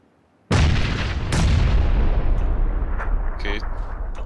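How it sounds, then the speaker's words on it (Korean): A grenade blast in the PUBG Battlegrounds desert map bursts out sharply after silence, followed by a second heavy boom and rolling rumble with scattered gunfire pops. "수류탄."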